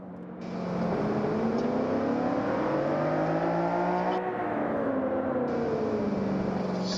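A car engine in the racing game Forza Motorsport 5 revs hard, its pitch climbing and falling through gear changes in a loud, continuous whine with no talk.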